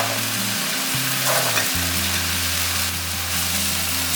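Corn kernels and rice beans stir-fried with soy sauce and vegetarian oyster sauce in a wok, with a loud, steady sizzle and scraping stirs over a low droning hum.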